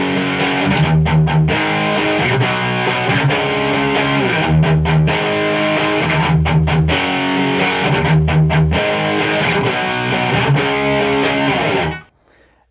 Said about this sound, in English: Let's see what it sounds like with some distorted tones here.